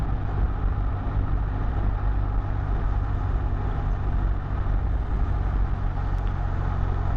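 Motorbike riding along a coastal road near Kata beach in Phuket, a steady close engine drone with wind and road rumble throughout, no talking.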